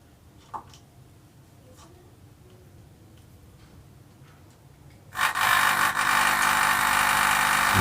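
An aquarium air pump feeding an air diffuser starts up partway through, turning a near-silent room into a loud, steady, hissing rush of air and bubbling that continues without a break to the end.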